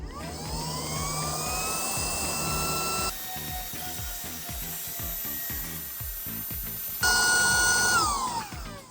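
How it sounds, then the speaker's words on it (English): A KD Sports cordless pump drones steadily while inflating a 2-person couch-style tube, its motor pitch shifting as it works and changing tone partway through, loud and close with no talk. "you'll see exactly how quick it's going to pump this 2-person couch style tube up"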